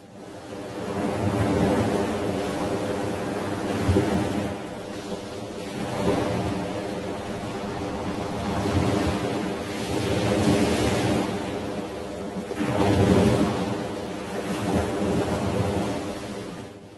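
Ocean surf washes onto a beach where newborn sea turtles head for the water, broad rushing waves swelling and receding in slow, repeating surges with no voices.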